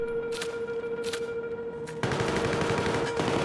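A big gun in Battlefield 3 fires a few spaced shots, then opens into a loud, sustained burst of rapid gunfire over a steady background drone.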